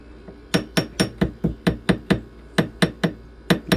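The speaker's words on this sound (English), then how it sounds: "we're going to get our ball peen hammer for this" Repeated sharp metallic ball peen hammer blows straightening bent metal, about a dozen strikes in a steady rhythm with a brief pause midway, close and ringing.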